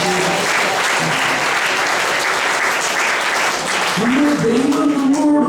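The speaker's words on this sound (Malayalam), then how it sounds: "ഒന്ന് കൈയടിച്ച് കർത്താവിനെ മഹത്വപ്പെടുത്തുക" A congregation at a Malayalam Christian retreat claps to glorify the Lord, a dense, loud, sustained wash of applause throughout, with a voice speaking over it near the end.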